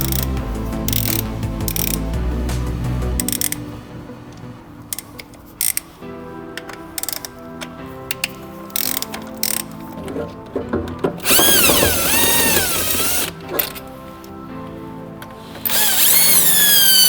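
Ratcheting wrench and mechanical clicks while T40 Torx bolts are undone on a ZF 6HP19 six-speed automatic transmission, with bursts of louder tool whirring and rattling; close and fairly loud, no talking.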